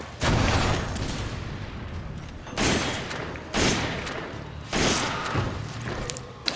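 Gunfire and explosions in the video game Resident Evil 5 come as four loud bursts spaced a second or so apart, each dying into a rumbling tail, with steady game noise between them.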